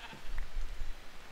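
Sheep bleating in the Minecraft video game, a short faint bleat over low background rumble during multiplayer survival play.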